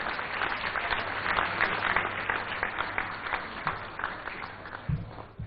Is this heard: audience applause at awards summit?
yes